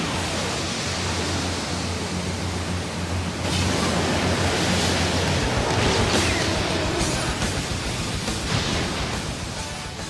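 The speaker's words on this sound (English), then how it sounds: "Water dragon jutsu!" A Naruto Water Dragon Jutsu water effect rushes as a loud, dense, continuous surge of churning water that swells stronger partway through and keeps roaring to the end, with no talk.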